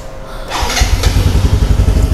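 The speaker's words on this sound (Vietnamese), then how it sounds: "bây giờ em sẽ mở máy cho mọi người nghe tiếng máy ha" A Yamaha motorcycle engine cranks and catches, then settles into a steady, close, loud idle with a low rhythmic throb.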